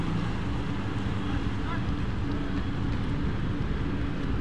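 A boat with two engines running at sea, a steady broadband roar of engines, water and wind noise that stays loud and constant throughout.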